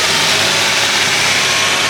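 A salvaged, wrecked Dodge Charger engine revving up close, loud continuous engine roar filling the short stretch with no voices.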